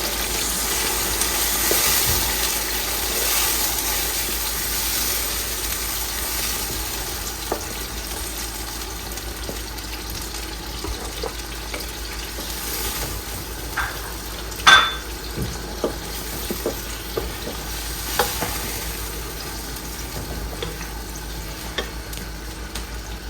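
Blended pepper poured over onions frying in a pot for mackerel fish stew, a soft continuous sizzle with scattered light utensil clinks and one louder knock midway, close and without voices.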